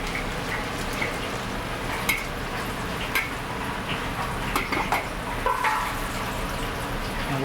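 Fish frying in hot oil, a steady close sizzle and bubbling with occasional clinks and stirring scrapes throughout.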